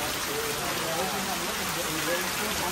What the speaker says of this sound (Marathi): एवढा पाऊस आला आता काय करायचं?